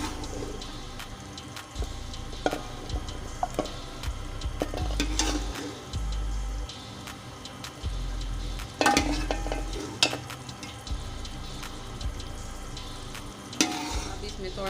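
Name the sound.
stir-frying taro root and chicken curry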